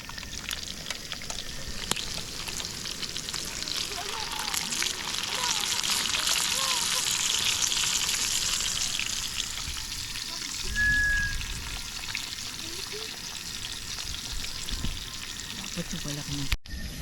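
Liempo, pork belly, fries in hot oil over a campsite fire with a steady crackling sizzle that swells in the middle and lingers throughout, with occasional faint voices and stirring.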